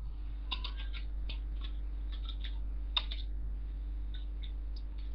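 Keys tapped on a computer keyboard while entering a drawing command, a quick run of short crisp clicks in small bursts with brief pauses, close and fairly quiet over a steady low hum, with no talking.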